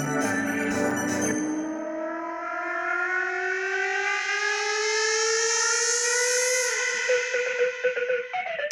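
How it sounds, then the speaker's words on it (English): A music build-up riser slowly climbs in pitch over several seconds, starting muffled and low-passed and gradually opening into a bright, siren-like sweep, with stuttering rhythmic hits breaking in near the end, and no talk. "I've actually combined this with that first thing I've told you, the muffled sweep, so that it starts kind of gradually"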